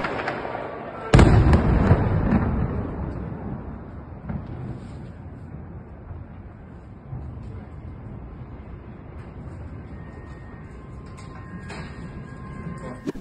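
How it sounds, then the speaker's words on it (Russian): A sudden loud blast booms out in Kyiv during a Geran-2 drone attack, followed by a long rumbling roar and scattered distant pops of air defense firing. "снял на видео взрыв"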